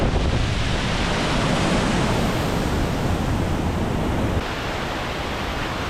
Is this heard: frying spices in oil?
no